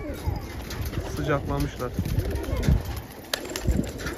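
Elvan pigeons cooing nearby in soft, repeated throaty rolls, with someone talking over them.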